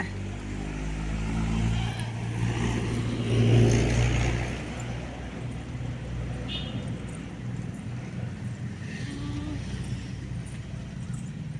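Vehicles pass by on a road near a village, a steady low engine rumble swelling around the third and fourth seconds, then fading into continuous softer traffic noise with faint background voices.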